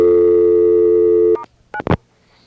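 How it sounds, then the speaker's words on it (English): A steady special dial tone on a 1A ESS Centrex phone line holds for over a second, cuts off, then a couple of short dialing tone bursts follow before quiet. "so now I have flashed, gotten the special dial tone"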